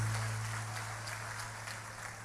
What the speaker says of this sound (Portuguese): Os que podem, tomem o seu assento aplaudindo a Jesus, porque Ele é bom